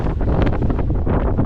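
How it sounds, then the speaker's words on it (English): Strong wind gusts buffet the microphone in a steady, loud roar with rumbling surges, close and continuous throughout, on a small rocky crag in Iceland. "We just gotta wait out those wind gusts."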